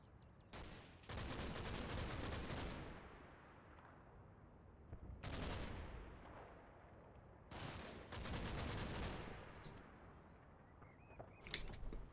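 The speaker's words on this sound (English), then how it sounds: "Definitely hearing another machine gun fire." Machine gun fire in Combat Mission: Battle for Normandy, heard as several long, loud automatic bursts separated by short quieter gaps of battlefield ambience.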